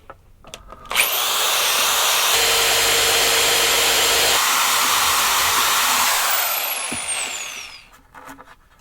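A high-pitched electric drill whirs continuously for several seconds while drilling holes, starting with a click, then spinning down and stopping.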